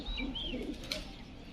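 Mirabbala pigeons from Punjab, kept with clipped wings in a home loft in Krishnanagar, give soft, faint cooing calls with a light chirp, without any talk.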